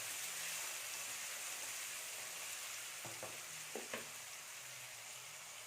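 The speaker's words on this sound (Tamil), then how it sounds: "இந்த வெங்காயம் அது வரைக்கும் வதக்கிக்கோங்க கலர் மாறாமல் பார்த்துக்கோங்க" Sliced onions sautéing in hot oil for egg kurma, a steady, faint sizzle and crackle throughout, with a couple of brief scraping stirs of a spatula near the middle.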